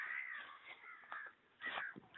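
Several crows caw loudly in harsh, repeated calls with short gaps, close by and outdoors near an old, falling-apart building, with no speech.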